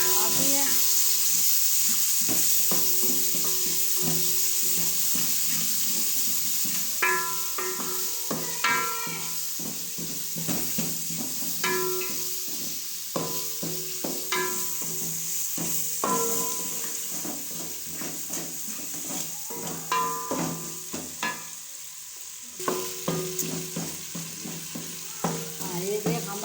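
Tomatoes fry and get stirred in masala for chole in a pan, a steady loud sizzle with repeated scraping stirs of a spoon throughout, close up.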